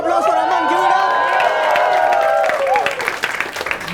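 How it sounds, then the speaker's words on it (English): A studio audience bursts into loud, sustained applause with cheering and whoops during a live guessing-game show, the clapping steady and close for the full length, with voices shouting over it. "Round of applause for Aman."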